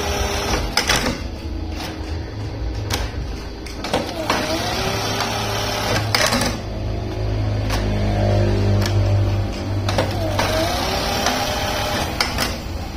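A Juki buttonhole sewing machine fitted with a servo motor runs in a steady mechanical whir with repeated clacking and stitching cycles and motor hum, close and fairly loud throughout, with no talk.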